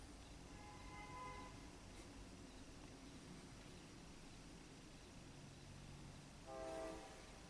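A distant train rumbles past steadily and faintly on wet rails in Watertown, New York, with a horn blowing once near the start and again near the end.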